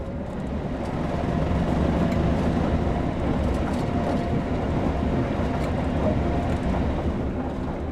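A train in the video game Train Sim rumbles steadily along the tracks, a continuous low roar with faint rhythmic clatter from the wheels, loud and close throughout.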